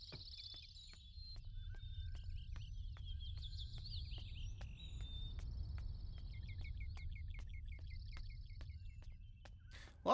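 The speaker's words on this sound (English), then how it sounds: "Lots of bird noises out here." Outdoor birds in Riven chirp and trill in quick high bursts, some repeated in short series, over a low steady ambient rumble with faint ticking.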